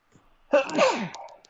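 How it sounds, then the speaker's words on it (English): A single close, sharp human sneeze bursts out after a brief intake of breath and trails off quickly, alone in a quiet room. "sneezing away as always"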